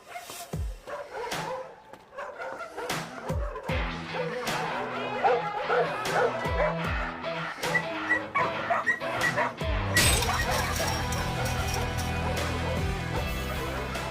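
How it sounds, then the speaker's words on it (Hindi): A large pack of dogs, around a hundred rescued animals kept at a house, bark, yip and whimper in sharp overlapping bursts throughout, some close and loud, with people talking among the commotion and a denser, steadier din toward the end. "एल फूड कंपनी के सीईओ पार्क के यहाँ पले हुए लगभग 100 कुत्तों को आज एक एनिमल टीम ने रेस्क्यू कर लिया।"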